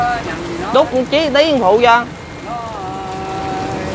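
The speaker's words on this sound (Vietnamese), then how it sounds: "Mẹ mưa to không bác ha. Mưa to ghê." Heavy rain pours down over a flooded street in a steady, even hiss that runs throughout, while people talk loudly over it near the microphone for the first couple of seconds.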